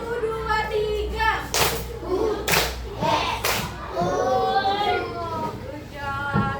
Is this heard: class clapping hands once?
yes